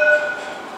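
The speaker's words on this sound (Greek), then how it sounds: "Το πιο ωραίο πράγμα εδώ είναι τα τραμ." A tram on an Istanbul street sounds a brief, bright tonal chime or bell at the start, loud and near, followed by a fading mechanical rumble of the passing car.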